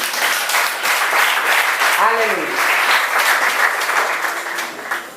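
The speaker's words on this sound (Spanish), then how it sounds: "Puede sentarse y darle un aplauso fuerte a Cristo." A church congregation gives loud, sustained applause that fills the room, with a voice calling out briefly over the clapping partway through and the applause easing slightly at the end.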